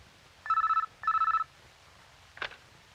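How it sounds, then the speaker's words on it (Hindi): An indoor telephone rings twice in quick trilling bursts, loud and close, followed by a short click or clunk as it goes quiet. "सर आपके लिए फोन।"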